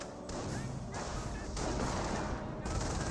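Sustained .30 cal machine gun fire in Company of Heroes, a dense chattering burst pattern with brief gaps, loud and continuous over battle noise, with faint talk.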